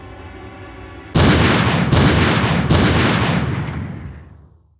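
Three loud gunshots ring out in the Zero Time Dilemma game, evenly spaced under a second apart, each a sharp close blast whose echoing tail rolls on and fades over about two seconds after a low tonal drone.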